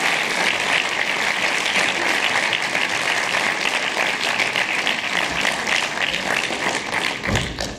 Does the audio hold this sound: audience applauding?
yes